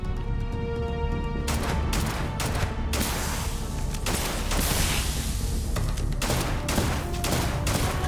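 Sustained gunfire in a Starfield firefight, loud repeated sharp shots in uneven bursts over a constant background of combat noise.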